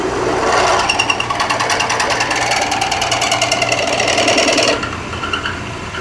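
A 5/8 inch hole being drilled in a shop: a loud, steady, rapidly chattering machine drone with a fast pulsing rhythm, close and continuous, that drops off abruptly near the end.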